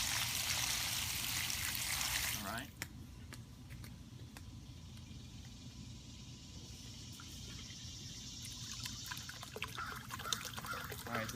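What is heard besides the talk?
water flushing through Sunterra pond filter hoses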